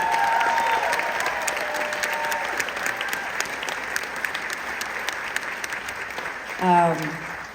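Applause from a concert audience at a show, a steady dense clatter of many hands held for several seconds, with some music fading under it at the start.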